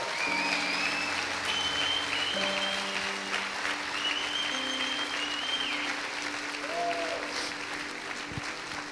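Steady, sustained applause from a large church congregation fills the space, with scattered whistles and tones over the dense clapping throughout.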